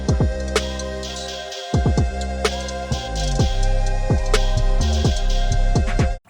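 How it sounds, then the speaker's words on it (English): A simple nine-track intro beat plays alone, with a steady pounding low kick pattern, layered synth tones and sharp percussive hits driving a constant, dense groove that drops out briefly near two seconds. "This is the intro beat that I have on YouTube."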